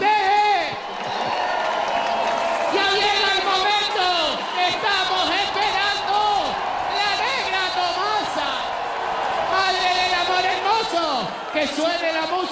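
A carnival crowd at Los Indianos cheers, whoops and applauds in a dense, lively wash of voices that rises and falls, with shouts breaking out above the sustained noise.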